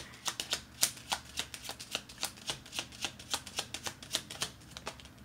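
A deck of cards is shuffled in a quick, steady run of crisp papery snaps, each flick close and distinct, repeating evenly for several seconds with no voices.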